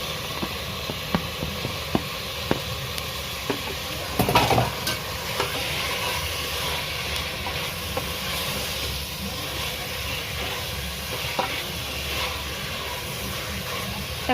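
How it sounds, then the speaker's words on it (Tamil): Tomatoes sautéing with ginger garlic paste for prawn biryani, a steady close sizzle with occasional spoon clicks and one louder stirring scrape partway through. "தக்காளி நல்லா வதங்கட்டும்."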